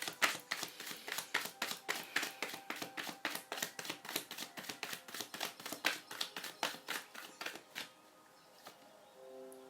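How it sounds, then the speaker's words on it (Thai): Tarot cards are shuffled in a fast run of crisp, rhythmic riffling snaps close to the mic, about twenty quick bursts over eight seconds, ending in a quieter settling shuffle. "อ่ะขอสับไพ่อีกรอบ"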